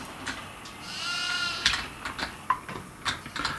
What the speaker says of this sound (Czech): Teďka musím odchytnout ty kozy.